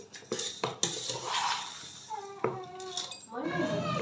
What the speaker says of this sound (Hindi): इन सब चीज़ों को हम खूब अच्छे से मिक्स करेंगे।